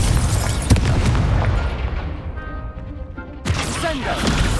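A Confringo fire spell exploding in the Hogwarts Legacy video game: a loud booming blast with crackling burst and rumble, then a quieter fizzing tail before a second sharp impact, with brief game voices underneath.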